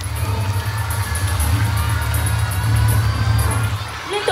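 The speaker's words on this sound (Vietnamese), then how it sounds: "một tràng pháo tay thật to" Large crowd at a primary school year-end ceremony applauding and cheering, with children's voices loud and continuous under a steady low hum, the noise swelling slightly toward the end.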